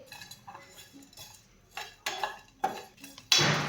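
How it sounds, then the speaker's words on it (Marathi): Dry spices roasted in a pan for a Kolhapuri vegetable curry, with a spoon scraping and clinking against the metal in short separate strokes that get louder toward the end, close by and with no voices. "मसाल्याला छान असा ब्राऊन रंग येईपर्यंत आपल्याला मसाले भाजून घ्यायचे आहेत"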